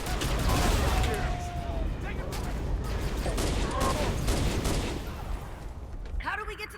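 Rapid, dense gunfire from the Halo 1 pistol in the Halo Reach video game, loud and continuous against a backdrop of game combat noise, with brief voices near the end.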